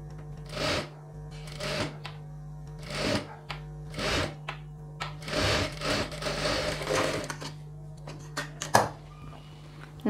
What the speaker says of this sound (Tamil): இப்போ இந்த நெக்கை அப்படியே ஃபோல்ட் பண்ணி ஸ்டிச் பண்ணிடலாம்